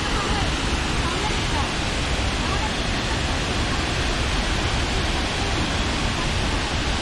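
Huangguoshu waterfall in Anshun, Guizhou, pours with a dense, unbroken roar of crashing water, loud and even throughout with no break or change.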